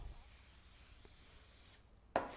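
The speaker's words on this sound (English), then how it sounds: "And now we use our trusty cooking spray." Cooking spray hisses onto thin sheets of low-fat strudel pastry in a kitchen: one short, close burst near the end, after a quiet stretch of room tone.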